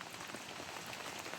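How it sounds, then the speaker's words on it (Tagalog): Steady rain falling on surfaces, a dense continuous patter of drops, faint and alone with no talking. "Kasi umuulan ngayon."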